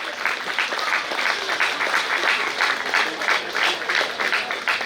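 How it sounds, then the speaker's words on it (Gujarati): An audience claps together in a steady, dense burst of applause that holds at the same level for several seconds, with a faint murmur of voices underneath. "જોરથી તમારી તાળીઓનો અવાજ આવવો જોઈએ"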